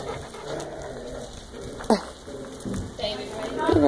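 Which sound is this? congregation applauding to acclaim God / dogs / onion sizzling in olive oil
dogs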